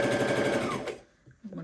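A sewing machine hemming the edge of a saree, a fast rhythmic stitching chatter that stops after about a second, followed by a brief voice.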